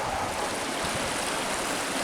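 A small creek in a wooded hollow flows and burbles steadily and close by, a continuous rushing water sound with no voices.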